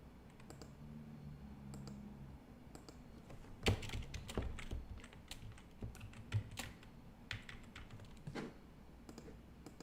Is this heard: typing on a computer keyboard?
yes